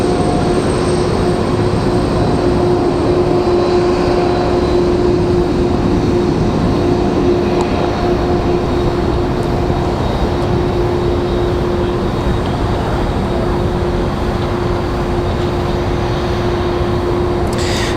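A WestJet Boeing 737 airliner passes at Raleigh Durham airport with a steady, loud broadband jet roar and a sustained whining tone held throughout, with no voices over it.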